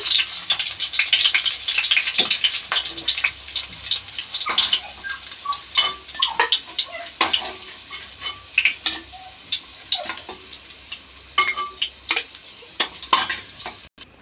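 Silver prawns fry in oil in a pan, a busy crackling sizzle with frequent clicks and scrapes of stirring running throughout at close range.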